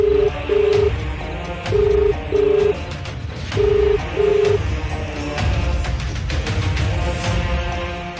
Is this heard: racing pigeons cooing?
no